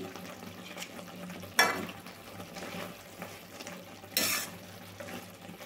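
Double ka meetha sweet with saffron being stirred in a pot, two sharp scraping strokes of the spoon standing out over a faint, quiet background.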